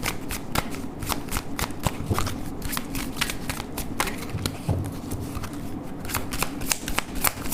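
Tarot cards being shuffled by hand, a steady run of soft riffling flicks and taps, close and fairly quiet, with no talking.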